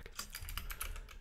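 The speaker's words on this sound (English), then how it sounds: "This keyboard." Rapid typing on a computer keyboard while writing Pico-8 code for a Breakout game, a busy stream of close, crisp key clicks with no voices.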